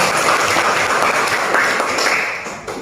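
An audience claps steadily through a classroom or workshop session, a dense, even wash of applause that stays loud and fades slightly toward the end.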